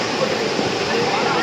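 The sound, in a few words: waterfall at Tada falls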